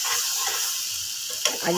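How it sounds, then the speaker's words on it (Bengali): Prawns stirred and fried in a pan for a banana flower bharta, giving a steady close sizzle with soft scraping strokes and a louder stir near the end. "চিংড়ি মাছগুলো দিয়ে দিলাম। এবার নেড়ে শুকাবো।"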